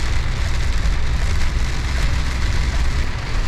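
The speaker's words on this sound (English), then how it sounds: "look at all the rain" Heavy rain pours down steadily at a large truck stop, a dense, loud, unbroken hiss and patter on surfaces with no break throughout.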